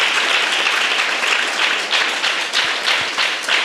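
A congregation at an all-night prayer gathering claps in praise, a loud, dense wash of hands that swells into rhythmic pulses toward the end, with occasional low thuds.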